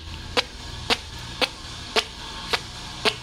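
Six evenly spaced, hollow cartoonish footstep hits, a sharp knock roughly every half second over a faint background hiss.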